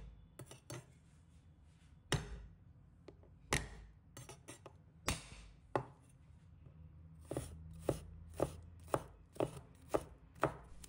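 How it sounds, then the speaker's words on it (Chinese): Garlic is minced with a knife on a cutting board in a kitchen, sharp close chops coming in irregular bursts, then settling into an even, steady rhythm. "再准备适量的大蒜， 把它切成末。"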